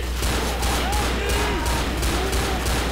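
Rapid bursts of gunfire in Left 4 Dead pound at the Tank, a dense, steady fusillade of repeated shots over game voices and chaos.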